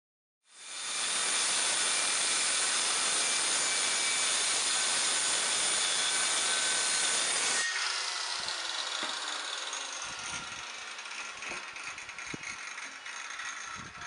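A power saw rips lengthwise down the center of a plywood sheet, its blade set shallow, producing a loud, steady roaring whine for about seven seconds before dropping to a lighter hiss with scattered knocks as it winds down.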